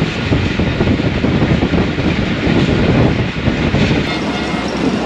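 An express train, the 8 Down Tezgam, arriving at Chichawatni railway station, giving a loud, steady broadband rumble of wheels on rails that holds close and continuous throughout.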